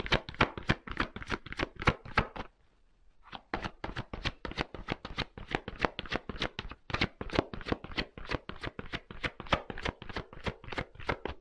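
Rapid, crisp riffle-shuffling of a tarot deck, dense flicking card snaps in a steady rhythm, close and loud, broken by a brief pause before the shuffling resumes.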